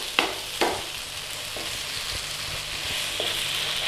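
Scrambled eggs and tomatoes sizzle and are tossed together in a frying pan, a steady fry broken by a few sharp scrapes and clatters of the pan.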